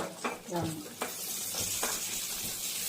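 Raisins fry lightly in a little oil for payasam, a soft close sizzle broken by several scraping stirs of a spoon in the pan.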